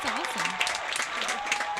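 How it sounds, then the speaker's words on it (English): Short burst of pre-recorded applause, many hands clapping steadily throughout, with a voice speaking over it. "Insert pre-recorded clap here"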